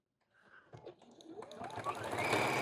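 A sewing machine top-stitches a flannel infinity scarf, starting quietly with a few mechanical clicks, then building into a steady, rising whir as it runs faster.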